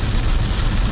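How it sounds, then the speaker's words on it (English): Heavy rain drums on a car during a road trip toward Kanyakumari, a loud dense wash of noise with a low rumble underneath, close and continuous. "we've been hit by real heavy rains"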